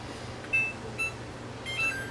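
A kitchen timer emits three short electronic beeps at uneven intervals as it is reset, close and moderately loud against faint room noise.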